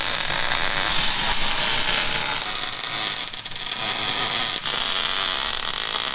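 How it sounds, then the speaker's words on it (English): Welding parts onto a Bronco II frame: a loud, continuous hissing crackle of an arc holds steady, with brief dips and pops partway through and no speech. "these, I'm gonna put them right there and weld them in place"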